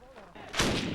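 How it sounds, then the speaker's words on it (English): Gunfire from Taliban fighters inside buildings near Kabul during the 2001 attack on the capital: a low rumble, then a burst of loud, sharp reports in the second half, heard from a distance with no voices. "Gunfire begins. It is coming from Taliban soldiers inside those buildings."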